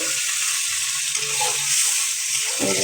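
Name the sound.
stirring sizzling shrimp masala with water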